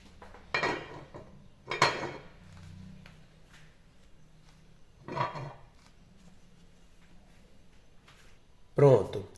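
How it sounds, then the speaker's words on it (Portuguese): A metal lid goes onto a pot holding bread dough for the oven, a few clanks and clinks of cookware spaced apart under a speaking voice, ending in a sharper metallic clatter. "Agora nós vamos tampar a nossa panela e levar ela ao forno."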